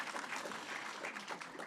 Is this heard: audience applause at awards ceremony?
yes